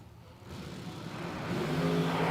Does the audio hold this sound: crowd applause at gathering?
no